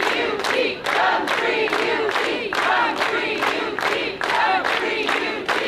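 Crowd at a gun-free UT rally chanting in loud, close, evenly spaced bursts of many voices, repeating about a dozen times without pause.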